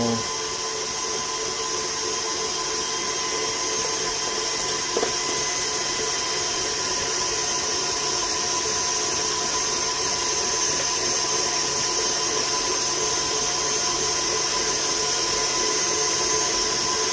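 Electric stand mixer whipping pavlova meringue, a steady continuous motor whir with a high whine, close and unbroken throughout.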